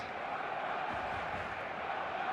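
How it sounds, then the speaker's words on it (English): A full stadium crowd in a football video game roars as a steady, dense wash of noise that holds at an even level throughout. "The stadium is full of noise and energy."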